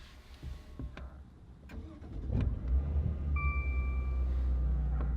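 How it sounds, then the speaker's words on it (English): A 2019 Maserati Ghibli S GrandSport engine cranks and fires up at close range after a few soft clicks, then settles into a steady, deep idle rumble with a brief high tone above it. "you press twice to start the car"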